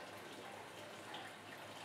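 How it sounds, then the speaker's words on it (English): Water from a return pump pours into an aquarium tank as it fills, giving a soft, steady rushing splash. It sounds faint and even throughout the short moment, with no talk. "Water's flowing in."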